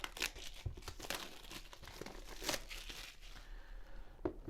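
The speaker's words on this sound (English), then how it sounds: "take the plastic out" Plastic wrap is peeled and crinkled off a Xiaomi Poco X7 Pro phone box, close and quiet, with repeated crackling rustles and a few sharper tearing bursts.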